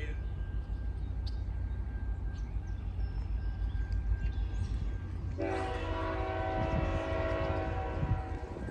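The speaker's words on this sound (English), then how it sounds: "Okay, the train's here." A train rumbles steadily close by, its tonal horn sounding and metallic squeals rising as it pulls in, with low mechanical noise throughout.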